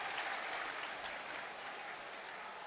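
Football crowd roaring and cheering steadily at a Wrexham v Bristol Rovers match, a dense wash of massed noise that swells slightly and holds throughout, with no single voice standing out.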